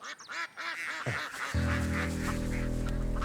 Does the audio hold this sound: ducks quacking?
yes